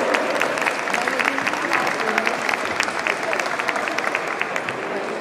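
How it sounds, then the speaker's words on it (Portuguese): An audience at the 15th Saberes e Sabores event gives artist Mário Barradas a big round of applause: dense, continuous clapping with crisp individual claps throughout, close and fairly loud. "uma grande salva de palmas"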